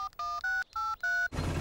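A telephone number being dialed in a Peppa Pig cartoon, four clear two-tone keypad beeps in an even rhythm separated by short gaps, followed by a burst of noisy sound at the end.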